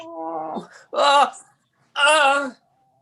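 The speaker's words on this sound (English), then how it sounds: "There's our cat. He's sick as hell." A sick cat gives three drawn-out meows in a row, close and fairly loud, each a strained, wailing cry with short silences between them.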